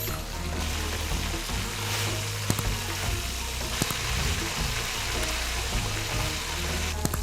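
Potato boats filled with minced meat fry in oil, a soft, continuous sizzle with a few sharp pops over a low background hum, no voices.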